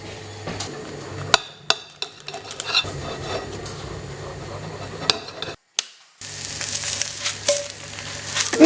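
Eggs and sausages frying in a pan for a homemade sausage and egg muffin, a steady sizzle broken by sharp clinks and knocks of utensils against cookware, close and fairly loud with a brief drop to near silence midway.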